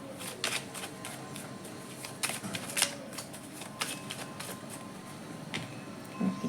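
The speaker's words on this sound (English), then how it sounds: "Let me give it a good shuffle." Tarot and Lenormand cards shuffle by hand in soft, irregular riffles and slides, quiet and close, with papery bursts scattered over a faint background hiss and no voices.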